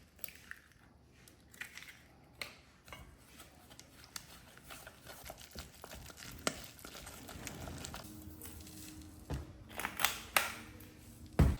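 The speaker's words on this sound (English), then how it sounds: "Stir well to make a soft batter and let it ferment" Pumpkin puree, yeast and flour being stirred into a soft batter, with faint scraping and soft wet stirring sounds that grow busier and louder toward the end, plus a few sharp clicks.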